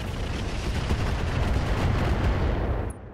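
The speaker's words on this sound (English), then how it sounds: "Our friend the Dervish firing on that Hatchetman." Heavy weapons fire from a Dervish mech pounding a Hatchetman in a video game, a dense continuous barrage of booming shots and rumble that holds steady for about three seconds before cutting off.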